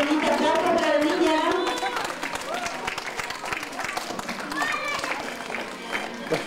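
Applause and crowd noise for a young girl at a school event, steady clapping mixed with children's chatter and voices, filling the room throughout.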